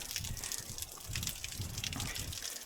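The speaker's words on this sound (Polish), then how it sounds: "Są i naturalne wodospady." Natural waterfall on the island of Madeira, heard as a steady, fairly distant broadband rush of falling water that stays even and continuous throughout, with no voices over it.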